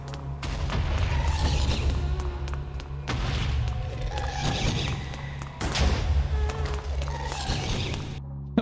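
Fireballs from several ghasts bursting in the Nether of Minecraft, a continuous barrage of booming explosions and thuds layered over a deep rumbling bed, loud and close throughout.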